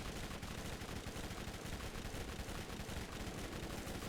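Rapid, continuous gunfire fills the fight against the Rakk Hive boss in the video game Borderlands, a dense, steady stream of shots with no pauses and no talking.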